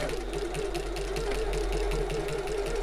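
A sewing machine runs a basting stitch on a shoulder bag, a steady rapid mechanical hum and needle chatter continuing without pause, close and moderately loud.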